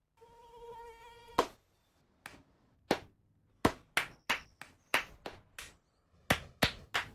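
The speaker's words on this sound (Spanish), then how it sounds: "No aplaudamos al mosquito, combatámoslo en serio." In a dengue prevention ad, a thin, whining mosquito buzz drones for about a second, then gives way to a series of loud, sharp hand claps in an uneven rhythm against silence.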